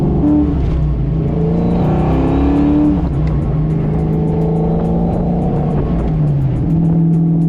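Foxbody Mustang convertible fitted with Koni yellow struts and shocks, heard from inside as it drives over a bump: a loud, steady engine drone with shifting pitch runs throughout, and no distinct impact stands out.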